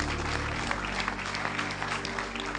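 A church congregation claps together during a prophetic worship service, a dense, steady wash of applause close by with a faint crowd murmur.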